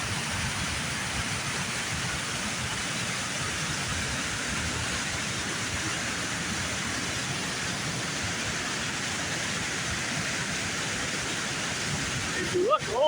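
Steady broadband rush of water spilling over a river dam near a dock, continuous and fairly loud throughout, with a brief clatter at the very end.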